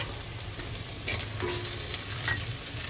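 Onion and spices frying in a pan over a low gas flame, a steady close sizzle with faint stirring scrapes and clinks, no talk.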